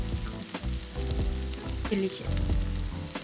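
Korean-style pancake batter with enoki mushrooms and vegetables sizzles steadily in a frying pan, loud and close throughout, with a spoon stirring and scraping and a brief spoken remark.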